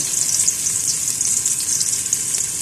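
Chopped onion and garlic sauté in oil in a pan for a Filipino ginisang ampalaya, a steady, close, hissing sizzle that holds level throughout with no talk.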